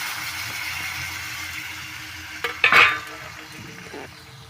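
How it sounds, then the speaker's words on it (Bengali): A little water, about two or three spoonfuls, splashes into a frying pan of fried food, making a short, bright hiss and splash over a low steady kitchen background. "আমি ঠিক 2-3 চামচের মতন একটু জল দিয়ে দিচ্ছি"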